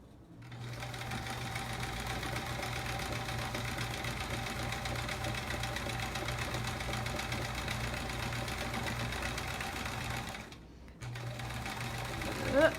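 A sewing machine runs steadily while stitching quilt-as-you-go quilt blocks, a continuous close mechanical whir with a low motor hum that pauses briefly near the end before starting again.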